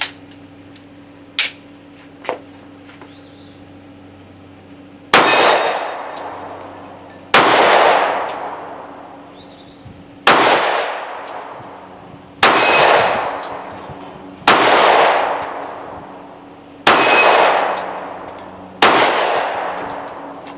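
Seven loud, sharp shots from a Mossberg MC1sc pistol fired with a 7-round magazine outdoors, evenly spaced about two seconds apart, each ringing with a metallic clang and decaying echo, preceded by a few faint clicks.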